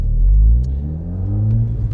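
A modified Mk2 SEAT Leon Cupra idles as it warms up in a residential street, giving a loud, steady low rumble that swells slightly, heard close with no talk.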